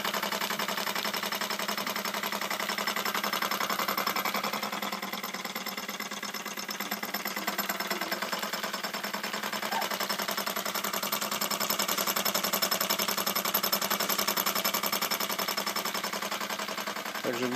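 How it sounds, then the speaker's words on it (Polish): A miniature steam engine drives a small 230V generator, producing a steady, rapid mechanical ticking and chugging that runs continuously and evenly throughout, with no voices. "Po prostu mamy własną elektrownię zbudowaną na silniku parowym."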